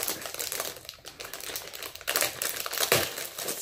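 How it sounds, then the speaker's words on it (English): Plastic being crumpled and crinkled by hand, a dense, continuous crackling rustle with sharper bursts toward the end, close and fairly loud, with no talking. "let's just see how much noise she can make with plastic"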